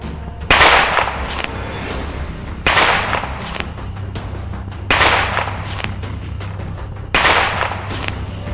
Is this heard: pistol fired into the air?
yes